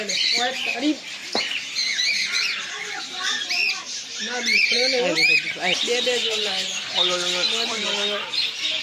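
Harsh, repeated bird squawks and chirps fill the clip, several calls overlapping with a busy, aviary-like chatter and some voices mixed in.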